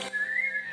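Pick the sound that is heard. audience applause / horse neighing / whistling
whistling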